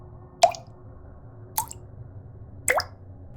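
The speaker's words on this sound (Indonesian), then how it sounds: "dari balik kain itu terdengar suara tetesan" Liquid drips in a creepy story sound effect, three distinct, clear plops spaced about a second apart over a quiet low hum, each one crisp and close.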